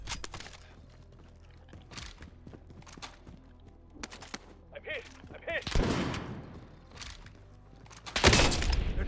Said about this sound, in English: He sniped me from the far end there.